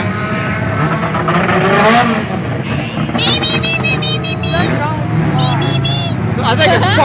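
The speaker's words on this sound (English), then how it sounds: "I think a spark plug come off of it." A loud Hornet-class race car engine roars and strains unevenly at a dirt speedway, its pitch wobbling and sputtering from a loose spark plug, with people talking over it and high whistling tones cutting in.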